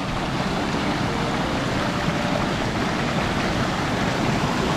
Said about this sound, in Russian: Можно пройтись по водопадику.